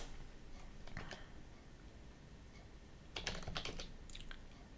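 Someone types on a computer keyboard in short bursts of quiet clicks, with a denser flurry of keystrokes near the end over a steady low background hum.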